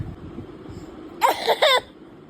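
A child gives two short, sharp coughs close together, close by, after a quiet stretch of faint background noise.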